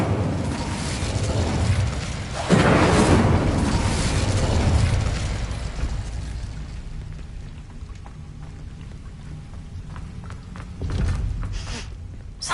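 Incendio fire spell cast in Hogwarts Legacy, a sudden loud whooshing burst of flame that roars on and slowly fades, followed by a second, smaller flare near the end.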